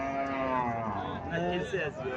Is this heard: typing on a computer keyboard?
no